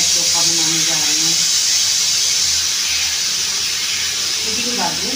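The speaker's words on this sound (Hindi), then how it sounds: "सीटी सीटी मेरा कुकर ले रहा है सीटी" A kitchen pressure cooker whistles while cooking potatoes, releasing a continuous loud hiss of steam throughout, with a voice singing and talking over it at the start and end.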